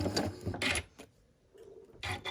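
A sewing machine stitches fabric pieces together for a quilt block in short, close bursts of rapid mechanical whirring, pausing briefly between runs.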